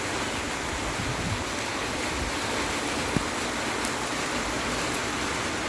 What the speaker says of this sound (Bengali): বাইরে প্রচণ্ড বৃষ্টি পড়ছে